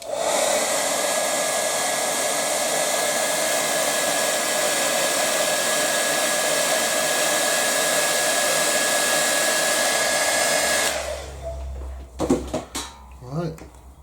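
A hair dryer blows steadily at close range for about eleven seconds over a watercolour painting of a winter scene, then switches off, followed by a few light clatters and knocks as it is set down.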